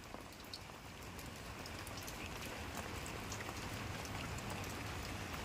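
Steady rain falls continuously, a dense even hiss with scattered drop patter, no voices, holding at a constant moderate level throughout.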